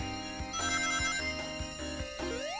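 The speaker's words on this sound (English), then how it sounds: "You can hear in the background a kind of like whistling noise" A thin whistling tone runs through steady electronic sounds from the game Sonic: A New Beginning, with ringing, bell-like notes and a rising sweep near the end.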